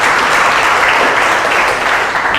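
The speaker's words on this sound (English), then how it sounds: "First, let's give Steve a round of applause for this presentation." Audience applause after a presentation on whether Hawaii officials are paid too much or too little, a steady, dense clapping that fills the whole moment with no voices over it.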